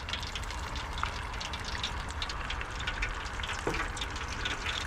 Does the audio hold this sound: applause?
no